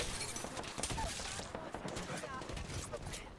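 Rapid bursts of video game gunfire crackle through a ranked match, dense and continuous with sharp overlapping shots and brief glassy impacts, loud and close with game noise throughout.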